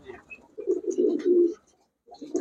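Racing pigeons at a pigeon dealer's shop give a low, throaty coo lasting about a second, then start again after a short pause, close and fairly clear.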